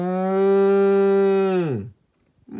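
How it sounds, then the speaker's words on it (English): A single long, loud bovine moo from a bull, held steady and close before dropping off sharply, followed by a brief quiet. "The bull says,"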